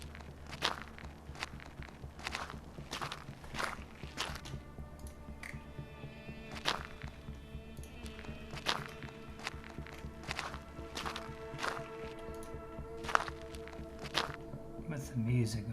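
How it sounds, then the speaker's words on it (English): Footsteps of a man walking with a stick, a steady series of sharp taps and steps spread through the scene, with a low background hum and some faint talk. "in this scene, he's walking, but he also uses a stick"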